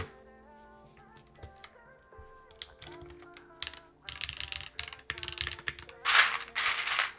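Someone types on a Yunzii mechanical keyboard fitted with GMK keycaps. The clacks are sparse at first, then grow into denser bursts of keystrokes over faint tonal background sounds.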